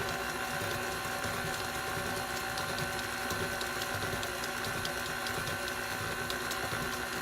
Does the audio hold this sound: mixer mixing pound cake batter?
yes